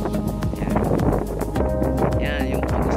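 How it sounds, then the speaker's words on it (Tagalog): Strong wind gusts buffet the microphone on an exposed mountain top while someone talks over the steady roar. "ang lakas ng hangin"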